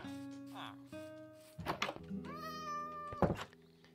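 A Minecraft cat meows a couple of times, short tonal cries standing out near the middle of the clip over a steady in-game background hum, with a dull thunk nearby and someone talking.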